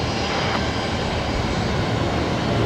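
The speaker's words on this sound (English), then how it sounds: "Qantas 125 should begin their takeoff roll pretty soon here." A Qantas airliner spools up for its takeoff roll at Brisbane Airport at night, a loud, steady engine roar that stays constant and close throughout.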